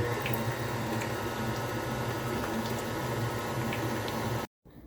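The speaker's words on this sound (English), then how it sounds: "turn your stand mixer on, whatever you're using, or a hand mixer, whatever you got on hand. And we're gonna mix this up now." A stand mixer's paddle works snickerdoodle cookie dough with butter for several seconds, giving a steady whirring hum with soft squishing, then cuts off abruptly.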